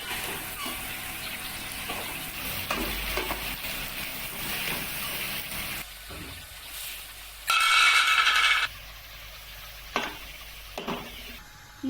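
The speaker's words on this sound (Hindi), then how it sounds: "प्याज ब्राउन करेंगे।" Onions frying and browning in oil in a home kitchen pan for chicken korma, a steady close sizzle throughout with occasional stirring knocks and a brief louder hiss burst partway through; no talking.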